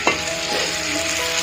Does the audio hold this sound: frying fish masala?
yes